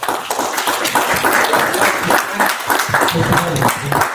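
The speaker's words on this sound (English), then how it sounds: "I think that we need to give them a round of applause" Applause at a city council meeting, with steady clapping from a room audience running throughout, mixed with some talk and noise.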